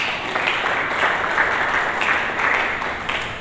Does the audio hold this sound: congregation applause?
yes